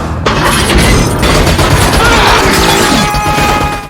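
A massive explosion from a Terminator film erupts in a loud, sustained roaring blast with crashing debris and rumbling that holds for several seconds before fading.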